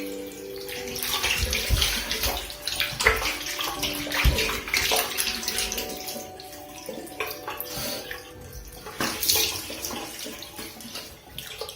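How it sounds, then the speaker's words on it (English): Water splashes and runs close by while a face is washed with cleansing milk at a sink, giving irregular bursts of splashing and dripping over a steady trickle, with no talking. "So we just apply very little and we just wash the face."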